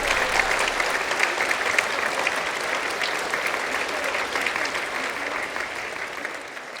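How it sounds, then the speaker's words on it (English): Sustained applause fills the room for theater staff at a community theater awards night, a dense steady wash of many hands clapping, even and unbroken throughout. "Please join me in a virtual round of applause for these wonderful,"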